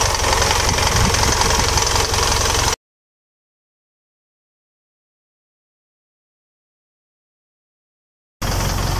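An Isuzu 4JJ1 diesel engine with a low-power fault idles loud and close with a steady rumble. It cuts out into a long silent gap and then resumes.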